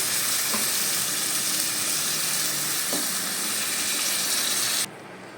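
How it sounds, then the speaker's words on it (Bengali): Fish curry gravy with eggplant, made in the doi pabda style, bubbles and hisses steadily after water is added to the pan. A constant close sizzle runs throughout with a couple of soft stirring taps, then stops abruptly near the end. "আমি জল দিয়ে দিয়েছি আর এটা ফুটছে"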